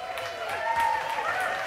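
Applause-like clapping on a TV cooking studio set, a dense patter of hands sustained throughout, fairly close and steady with a slight swell in the middle.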